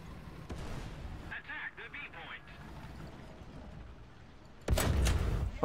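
Tank gunfire and an exploding Panther tank in War Thunder: a sharp cannon shot early, rumbling battle noise, then a loud heavy blast near the end, with someone talking over part of it.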